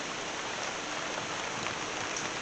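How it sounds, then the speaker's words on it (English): Steady rain falls throughout, a dense continuous hiss with no distinct drops standing out, moderately loud and without voices. "No kind of work this rain and fall and I can't come out of the rain."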